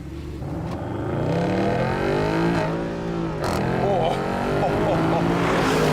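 Mercedes SLS AMG with a 6.2-litre V8 driven hard on twisty roads, its engine note climbing and falling through gear changes as a steady, loud drone with short dips between shifts.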